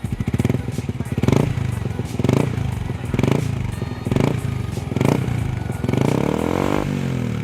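A nearby modified Yamaha R15 2016 motorcycle engine idles with a throaty rumble and is blipped lightly several times in short, regular revs, fairly loud, with no talking.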